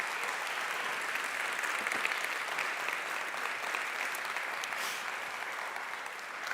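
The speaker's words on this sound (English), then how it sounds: "Give him a round of applause" Applause from the audience at a live AI summit, a broad, even wash of clapping that holds steady throughout without fading, heard from some distance.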